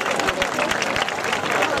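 A festival crowd applauding a gymnastics team in Argostoli, Kefalonia: dense, continuous clapping at steady loudness, with a voice faintly audible within it.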